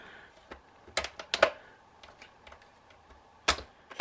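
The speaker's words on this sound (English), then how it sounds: "Now you can hear it clicking open" Plastic clips on the bottom panel of an Acer Nitro 5 laptop (AN515/AN517) clicking open as a pry tool slides along, a few sharp close clicks with quiet gaps between.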